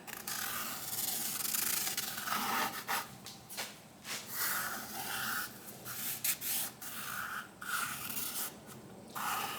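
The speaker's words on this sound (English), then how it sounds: "we'll draw the outline" A pencil drawing a guitar outline onto a wooden blank, working from a template. Close scratchy rubbing strokes come in uneven bursts with brief pauses between them.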